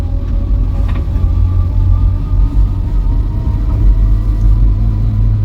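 The engine of a Vauxhall Viva barn-find car, running a bit rich on its carburettor, rumbles steadily during a test drive, with a low, continuous drone and no talking.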